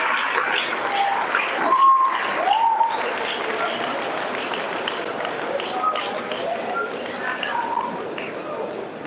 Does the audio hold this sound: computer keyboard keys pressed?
no